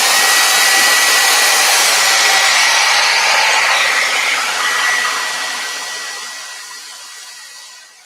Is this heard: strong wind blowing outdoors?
no